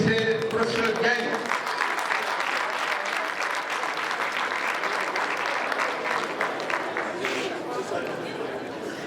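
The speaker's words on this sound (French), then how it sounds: "Applaudissez professeur Gaye" An audience at a medical thesis defense at UGB claps for Professor Gaye: a thick, continuous round of many-handed applause, close and lively, easing slightly toward the end, with murmuring voices beneath it.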